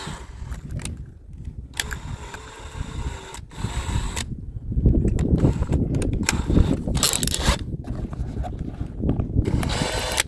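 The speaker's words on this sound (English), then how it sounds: "We'll switch over to the 9/64 drill bit." A power drill with a 9/64 bit bores into a Klein Tools cell phone holster. Whirring runs in short, uneven bursts, growing louder and heavier in the second half.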